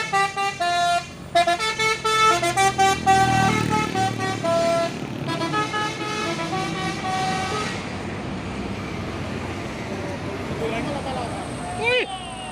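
A Hino 500 truck on the road sounds a loud, tuneful multi-tone horn in repeated blasts, then its engine rumbles past as the honking stops, with voices talking over it.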